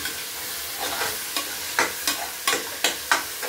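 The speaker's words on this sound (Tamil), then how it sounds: "தக்காளி நல்லா இன்னொரு வாட்டி குக் பண்ணிடுவோம்." Tomatoes sautéing in a pan for vegetable biryani, with a steady soft sizzle and repeated scraping strokes of a stirring spoon about every half second, close and moderately loud, with no talking.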